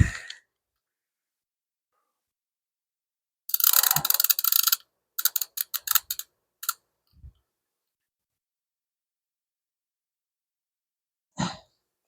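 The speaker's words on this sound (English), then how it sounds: "Gonna have to get the bigger ratchet out now" A ratchet wrench working bolts on a 5.7 Hemi engine for a 1975 Plymouth Duster. Rapid metallic clicking comes in two close bursts, followed by a few isolated clicks and long silent gaps.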